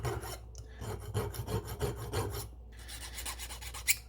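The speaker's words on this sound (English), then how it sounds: "Do have to sand the edges here so it's not so sharp." Rhythmic back-and-forth rasping as the sharp edges of a fire obsidian pendant are sanded by hand, a close, fairly quiet series of gritty strokes with a short pause partway through.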